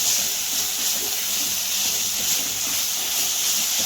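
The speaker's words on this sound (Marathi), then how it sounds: "चांगलं परतून घ्यायचं आहे आपल्याला." Vegetables stir-fried in a kadhai with Schezwan chutney and sauces give a steady, loud sizzling hiss that runs unbroken the whole time, with faint low scraping underneath and no talking.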